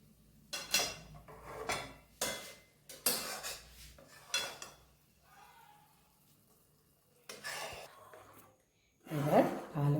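Spoon stirring apple into thickened milk kheer in a pot, with repeated scraping and clinking bursts against the metal, close, broken by short pauses.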